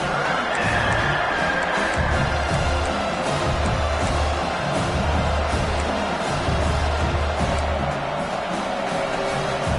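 A large American football stadium crowd roars continuously, a broad wash of cheering and shouting voices that stays loud and steady throughout.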